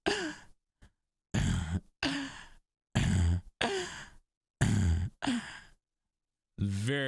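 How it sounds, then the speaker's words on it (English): A singer's sharp, refined inhales in a song, several short breathy intakes alternating with bursts of sung, harmonic-rich voice, close and fairly loud. "it's a very refined inhale sound"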